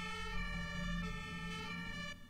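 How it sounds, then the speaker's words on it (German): A fire engine siren in a German firefighting video game sounds as a steady, continuous wail that holds its pitch, clear and fairly close with no voices. "Da kommt die Feuerwehr schon."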